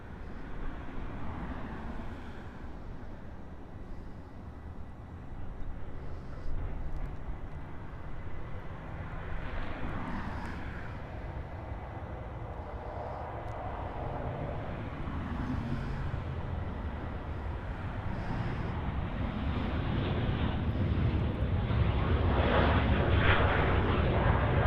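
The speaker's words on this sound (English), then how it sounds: "We got the Southwest 73 departing here off runway 24 left." A Southwest Airlines Boeing 737 departs runway 24 left at Los Angeles International Airport, its jet roar building steadily and growing louder toward the end over a broad rumbling wash, with no talk.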